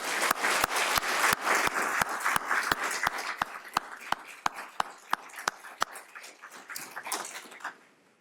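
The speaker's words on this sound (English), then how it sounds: "Let's give Frederick County's newest paramedics one more round of applause." An audience at a Frederick County paramedic graduation ceremony breaks into a full round of applause, dense crowd clapping with a few sharp, close individual claps standing out before it thins and fades near the end.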